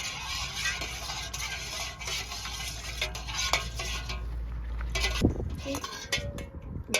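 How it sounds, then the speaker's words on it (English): Hot tallow soap mixture being stirred in a bowl, a steady scraping and swishing that carries on under a low background hum, with a few sharper clinks of the utensil against the bowl. "So we keep stirring."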